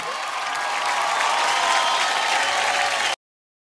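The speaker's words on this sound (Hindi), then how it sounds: "तो चलिए एक बार विकास और हर्ष के लिए जोरदार तालियां।" Loud, sustained applause from a television comedy show audience, a dense wash of clapping with some cheering, which cuts off abruptly before the end.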